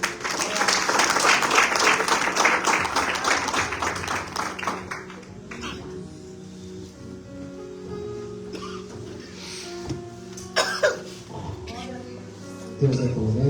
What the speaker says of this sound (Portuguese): As palmas, Senhor.